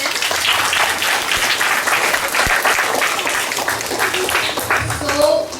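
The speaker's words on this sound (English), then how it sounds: "big round of applause for them" Children of class 4 C applaud at a Republic Day school assembly, a dense, steady round of clapping with young voices chattering underneath.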